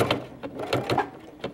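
A sewing machine stitches across extra-thick fabric at a pillow fold, giving short rhythmic bursts of motor whir and needle clatter that rise and fall several times, close and fairly loud with no talking.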